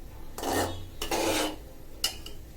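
Chopped bottle gourd greens tumble into a pot of lentil dal cooked with green chilli, onion, garlic, salt and turmeric, giving two rustling, scraping pours followed by a short clink of a utensil against the pot.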